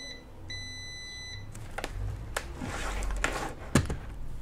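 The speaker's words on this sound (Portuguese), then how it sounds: "Vocês estão ouvindo o bip daí, né?" An electronic tester emits a steady high-pitched beep for about a second while testing a relay, followed by clicks and handling noise.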